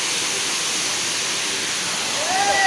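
A hot spring waterfall in Krabi gives a steady, dense hiss of falling water, constant and fairly loud throughout.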